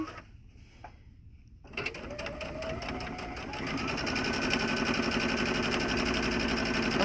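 A sewing machine top stitching a fabric wine tote starts after a short quiet lead-in and runs in a loud, fast, steady whir close by, its motor speeding up partway through.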